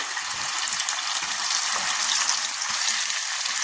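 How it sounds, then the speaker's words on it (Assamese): Marinated chicken fries in hot oil with browned onions, giving a steady, loud sizzle with faint stirring scrapes throughout, no voices. "এতিয়া ধুনীয়াকৈ মই মাংসখিনি তেলত সিজাই লৈছোঁ, মানে ফ্ৰাই কৰি লওঁ।"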